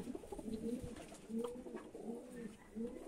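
A pigeon coos repeatedly with soft, low, rolling calls in a steady rhythm, close but quiet over faint background noise.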